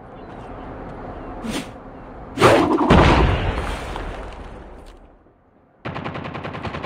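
A frag grenade goes off in the mobile shooter Call of Duty Mobile in search and destroy mode. One loud close blast booms and rumbles for a couple of seconds before fading, with quick gunfire just before it and again afterward.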